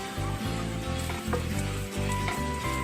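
Steady, loud sizzling of spices frying in hot oil, with a continuous crackle and occasional stirring scrapes, and no voices.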